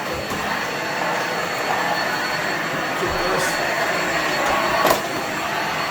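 A Besswin 6-in-1 lightweight corded stick vacuum runs steadily at close range, a continuous motor whine and airflow rush with a few brief bumps as it cleans along corners and under a baseboard heater.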